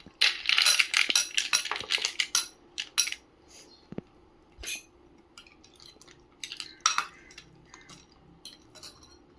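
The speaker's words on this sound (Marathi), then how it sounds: "त्यामध्ये आपण बर्फाची क्यूब्स घालूया।" Ice cubes dropped into watermelon sharbat, a quick cluster of bright clinks and clatters against a glass at the start, then scattered lighter taps and knocks, close and sharp.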